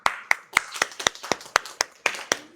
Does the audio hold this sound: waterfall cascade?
no